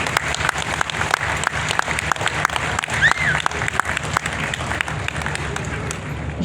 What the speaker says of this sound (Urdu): تو 3 کے لیے تو تالیاں زیادہ ہونی چاہیے